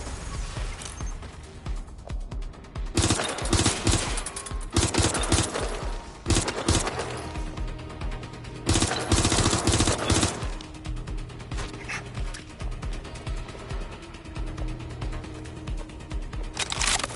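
Heavy gunfire from a Watch Dogs firefight, dense bursts of shots rattling in loud waves with brief lulls between volleys, sustained over the whole stretch.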